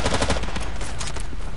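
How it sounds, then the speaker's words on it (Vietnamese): A light machine gun fires in the video game Battlefield 2 during a 16 vs 16 match, a loud, rapid unbroken burst of rattling shots close to the listener. "Súng này của mình thì được cái nhiều đạn mặc dù nó là thủ liên."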